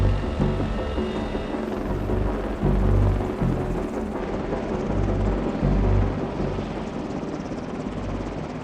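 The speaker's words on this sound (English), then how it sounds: "The Marines use the CH-53E Super Stallion to move people and gear for critical missions." A CH-53E Super Stallion helicopter roars with a dense, continuous rotor and turbine rumble, loud and steady throughout, with no voices.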